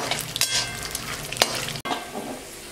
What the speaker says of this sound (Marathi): वाटीभर शेंगदाणे घालू. याला आहे ना छान लाल रंगावर तळून घेऊ.